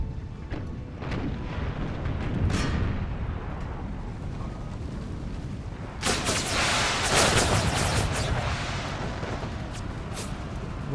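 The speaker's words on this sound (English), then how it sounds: "Well, we got the first shots off." Artillery and musket volleys in Empire: Total War during a battle: scattered booms first, then a dense, loud burst of overlapping gunfire and cannon blasts with rumbling aftermath.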